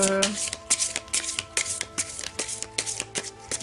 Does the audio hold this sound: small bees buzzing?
no